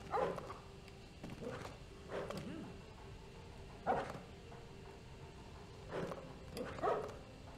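Dog barking in the LEGO Harry Potter video game, several short separate barks or yips spread across a quiet game background with low hum, moderately faint.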